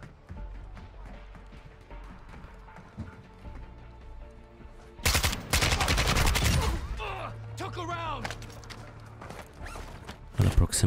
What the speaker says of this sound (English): I'm already hearing shots in this area.